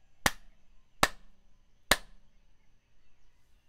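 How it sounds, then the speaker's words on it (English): Three sharp, evenly spaced claps from a live-stream audience joining in before a closing prayer, each crisp and near, followed by quiet. "clap three times"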